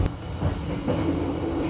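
Kutojaya Utara economy train running on rails, heard as a steady rumbling, rattling carriage noise with low wheel drone throughout, close and even in level, with no talking.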